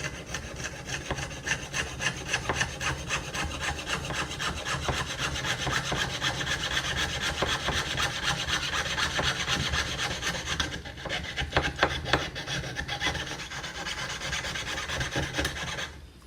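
Wood being cut with a handsaw on a sawhorse, a loud continuous rasping of rapid back-and-forth strokes close by that keeps going for the whole stretch, with no voices.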